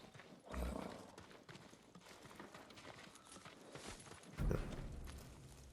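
Horse hooves clip-clop in the video game Ghost of Tsushima, a steady walking rhythm with two heavier thuds near the start and end, plus ambient game sound throughout.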